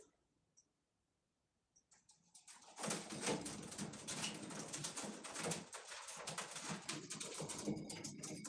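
A pigeon on an air conditioner unit outside a window sets off a sudden loud burst of scraping and fluttering clatter after a quiet start, continuing noisily for several seconds.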